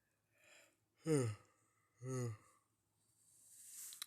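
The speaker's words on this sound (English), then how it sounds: "that's the last yawn" A drawn-out yawn from a sleepy person, breathy inhalations rising into two voiced, groaning swells, then trailing off into a long hissing exhale, close and alone.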